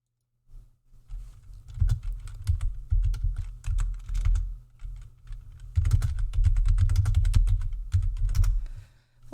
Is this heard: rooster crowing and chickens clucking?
no